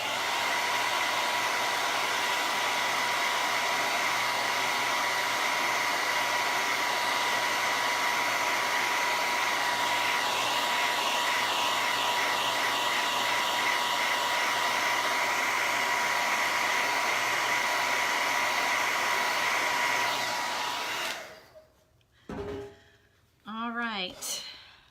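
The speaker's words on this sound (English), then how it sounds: "let me just hit that with the dryer" A hair dryer runs for about twenty seconds while a wooden plank mason jar sign with felt flowers is being made. It gives a loud, steady whirring blow that then cuts off, followed by a few brief spoken words.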